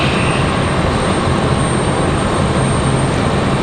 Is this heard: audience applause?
no